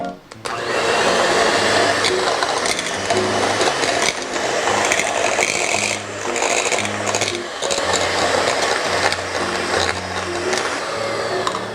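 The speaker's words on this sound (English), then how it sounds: "I'm going to take my hand mixer and I'm going to incorporate these two together" An electric hand mixer beating butter and cheese in a bowl for cracker dough, a loud continuous whirring drone with the pitch shifting as the beaters work, alone without talk.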